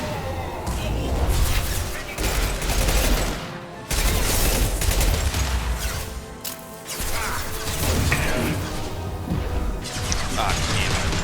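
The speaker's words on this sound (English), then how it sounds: "Firing an impact shot." Mass Effect 2 combat: an impact shot goes off amid loud, dense bursts of gunfire, crashes and whooshes that run almost continuously, with one brief lull.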